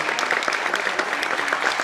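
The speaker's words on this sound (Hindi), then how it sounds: "तो एक बार जोरदार तालियां के लिए" Dense, energetic applause from a theatre audience for a ballet team after a Rani Durgawati dance performance in Bhopal, a steady roar of many hands clapping throughout.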